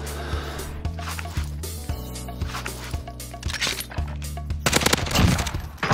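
Rapid automatic gunfire in the Call of Duty Warzone shooter: a rhythmic string of close, sharp shots that swells into a louder, denser barrage toward the end, with no voices.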